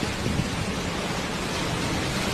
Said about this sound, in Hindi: इंडिया के इलाके गुजरात में बहुत बड़ा तूफ़ान आया है